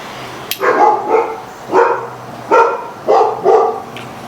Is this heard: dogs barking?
yes